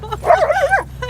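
A dog at an off-leash dog park in Lloydminster gives a brief whining yip, a short rising and falling vocal cry heard close up over a low background rumble.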